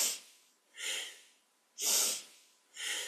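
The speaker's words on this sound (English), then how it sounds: "we're breathing deep as we move deeply through the spine" Deep, forceful breaths during a kundalini yoga spinal exercise, four strong breathy rushes in a steady rhythm, alternating inhale and exhale, close and fairly loud with no talking.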